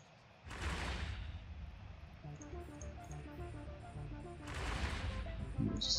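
Weapons fire in the space game EVE Online as a ship attacks an enemy vessel, with two bursts of crackling blasts over a steady synthetic hum and faint electronic tones.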